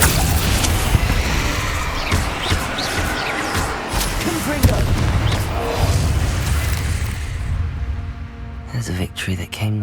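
Booming blasts and crashes from the Confringo fire spell in Hogwarts Legacy, loud and dense for most of the stretch, with talking mixed in before things quiet down at the end.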